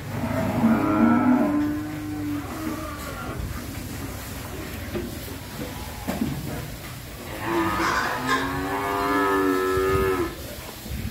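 Cattle at a breeding farm moo loudly and close by, two long drawn-out calls separated by a stretch of rustling farm noise and wind.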